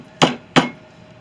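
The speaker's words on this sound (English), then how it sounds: "dead blow hammer" A light dead blow hammer taps a custom machete handle twice in quick succession, two dull, close, fairly loud knocks about a third of a second apart with no one speaking.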